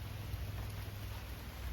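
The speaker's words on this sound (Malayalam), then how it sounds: "മഴയ്ക്ക് ഒരു ശമനവുമില്ല കേട്ടോ, നല്ല അടിപൊളി മഴകളാണ്." Heavy rain falling as a dense, steady wash of noise, continuous and even throughout a brief stretch, with no voices.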